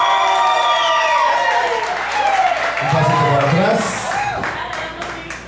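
An audience at a karaoke competition claps for a singer while voices call out and talk loudly over the applause.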